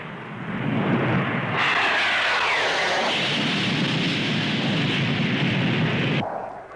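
Supermarine Scimitar jets of the Royal Navy flying at the 1959 Farnborough air show, a loud rising roar that swells into a broad sustained rush overhead before cutting off, no talk.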